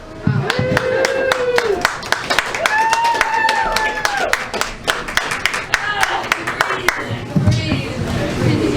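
Comedy club audience clapping for a comedian as he takes the stage, sharp individual claps scattered over a thin crowd, with someone talking and calling out over the clapping.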